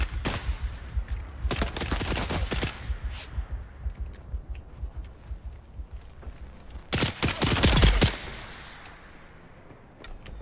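Bursts of gunfire in the Dune: Awakening video game, a clustered volley early on and a heavier sustained burst later, with quieter shots and footsteps scattered between.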